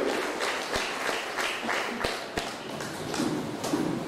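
An audience applauds at a school first-aid kit distribution event, with a burst of scattered clapping and a few thuds and taps, moderately loud and brief.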